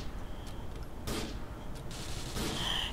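Two bursts of gunfire from Grand Theft Auto IV ring out over steady game background noise, about a second apart, each a sharp broadband crack with a short tail.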